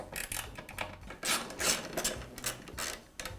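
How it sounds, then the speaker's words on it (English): Screwdriver turning and loosening the side brace screw on a Makita planer, heard as close, repeated rasping scrapes and rubbing strokes in short bursts with brief pauses. "Now loosen the screw for the side brace."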